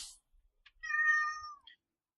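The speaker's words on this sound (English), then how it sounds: "someone's cat really objects" A house cat lets out a single drawn-out meow, fairly close and clear, after a brief rustle, followed by silence.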